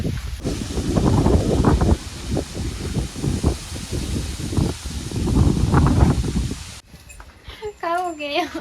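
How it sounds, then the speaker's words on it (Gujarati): Strong wind roars and gusts steadily, rustling loudly around the microphone, with people talking underneath; the gusting drops off near the end. "અચાનક આજ કેમ એટલો બધો પવન આવવા મળ્યો"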